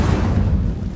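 The Incendio fire spell is cast in Hogwarts Legacy as a loud, dense burst of roaring flame and low rumble. It fills the whole moment with a steady, heavy whoosh.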